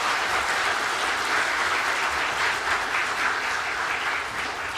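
A church congregation applauds at a Sunday worship service, a steady, dense wash of clapping that fills the room for the whole stretch and fades slightly at the end, with no voices over it.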